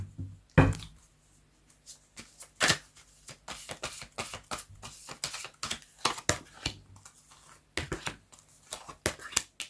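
Tarot cards being drawn and shuffled by hand: a run of crisp papery riffles and slaps, close and moderately loud, in irregular bursts with brief pauses between.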